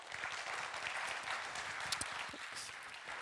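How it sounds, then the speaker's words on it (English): Audience applause welcomes a speaker at a transportation conference, a steady, even patter of many hands clapping for the whole stretch without noticeable speech. "give him a round of applause"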